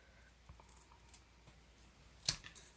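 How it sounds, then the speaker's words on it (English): A single crisp snip of scissors cutting through cardstock at a paper-crafting table, sharp and close near the end, after a few faint handling clicks. "I'm going to just snip this off here."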